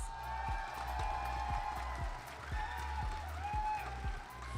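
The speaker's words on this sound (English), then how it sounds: "please give them a warm round of applause." Audience applause in the arena at a Mobile Legends esports grand final, a steady wash of clapping with some crowd noise, loud and continuous throughout.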